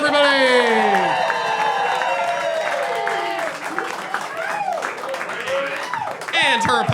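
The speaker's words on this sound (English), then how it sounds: "Clap it up right now." Comedy club audience at a roast battle show in Hartford applauding and cheering as a comedian is introduced, a dense continuous wash of clapping and whoops with a host's amplified voice talking over it throughout.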